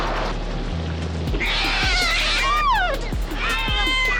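A cat yowls and screeches in a 1987 slasher movie jump scare, loud drawn-out wailing cries with rising and falling pitch over a low ambient background.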